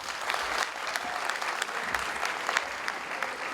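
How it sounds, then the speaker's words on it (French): A crowd at the closing ceremony of the Clap en Herbe school competition claps and cheers steadily, a dense continuous ovation with scattered sharper claps throughout. "qu'on acclame très très fort"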